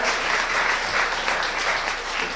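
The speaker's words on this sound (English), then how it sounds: "Let's give them a round of applause because we really appreciate your work" A crowd at a Mekong NYC Year of the Goat community gathering gives organizers a round of applause, a brief, dense, even stretch of clapping heard close and continuous.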